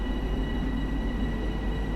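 A train passes in the video game Train Sim World 2, heard as a steady, moderate low rumble of rolling wagons that holds even for two seconds, with no speech.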